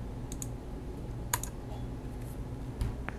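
Keyboard typing while DVR network settings are entered: a few separate clicks and short bursts of keys rise faintly over a steady low hum, with no talking.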